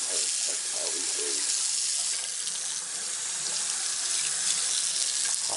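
A faucet runs hot water into a sink in a Layton, Utah rental home, a steady close rushing hiss that continues throughout without talking.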